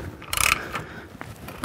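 A tool works a stubborn bolt, coated in what may be anti-seize, loose on a Carbon 65 C7 Corvette Z06 during a drop-spindle install, giving a brief mechanical ratcheting burst up close, then fainter clicks.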